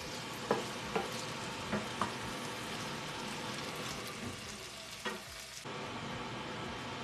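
Spiced shrimp sizzling in a pan for Ghanaian jollof, a continuous close frying hiss broken by a few sharp clinks and stirring knocks, with no talk.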